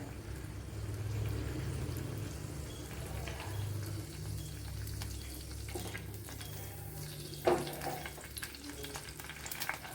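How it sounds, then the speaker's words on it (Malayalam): Mustard seeds crackle and pop in two tablespoons of hot coconut oil while sambar is made, a steady close frying sizzle running throughout, with one sharper pop near the end. "ഇതാ കടുക് പൊട്ടിയിട്ടുണ്ട്"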